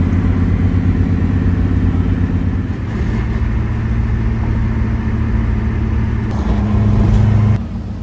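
A car's engine drones steadily while driving on the highway, a loud, close, constant hum that dips briefly partway through before settling back into its even note.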